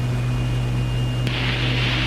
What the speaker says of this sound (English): Okay, gear going down.